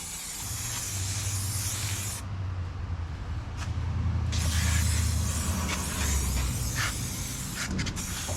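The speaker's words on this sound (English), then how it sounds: "Just spray it everywhere." Cleaner sprays in long, loud, close hissing bursts over the plastics and metal of a RZR side-by-side, nearly continuous with brief gaps.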